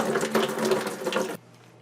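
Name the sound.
vinegar being poured into a 5-gallon bucket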